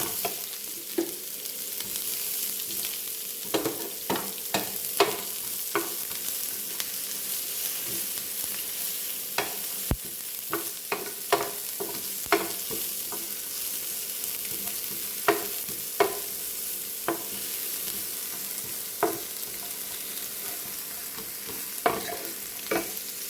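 Green chillies sautéing in a pan for a Kerala-style ivy gourd fry, a constant soft sizzle broken by regular sharp clicks and scrapes of a spoon stirring against the pan.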